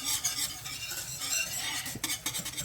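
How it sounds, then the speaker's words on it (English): A spoon stirs a thick cake mixture in a pot, making close, rhythmic scraping and swishing strokes against the pot with a faint sizzle beneath. It belongs to a peanut butter cake, and no one speaks. "So I'm going to keep stirring this for just another minute or so."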